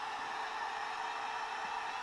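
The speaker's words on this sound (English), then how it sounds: "Just going to dry with a hairdryer." A hairdryer blows continuously on alcohol ink, giving a steady, even airy whoosh with no breaks, fairly quiet and heard alone.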